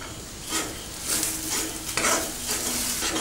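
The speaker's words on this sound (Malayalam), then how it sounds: "ഇനി ചെറിയ തീയിൽ നന്നായി നല്ല ബ്രൗൺ കളറാവുന്നത് വരെ നമുക്ക് വറുത്തെടുക്കാം" Grated coconut roasting in a pan with curry leaves and a pinch of garam masala over low heat: a steady close sizzle broken by repeated scraping stirs, with no voices.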